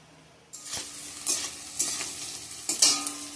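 Onions and carrots hit hot oil in a pan for pasta, sparking a sudden sizzle that settles into steady frying, with a few sharp stirring scrapes and clinks close by.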